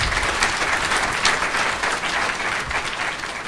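Sustained applause from a sizable crowd at a university rector's speech, a dense, even wash of clapping that continues steadily throughout without pause.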